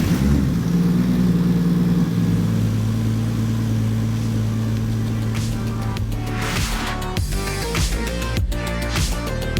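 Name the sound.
CRESTA car engine cranking and starting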